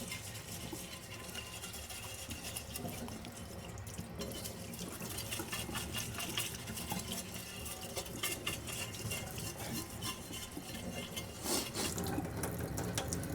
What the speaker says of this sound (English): Now I'm going to rinse off my plate.